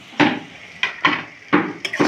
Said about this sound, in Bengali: এবারে আমি এই মাছগুলো দিয়ে দেবো,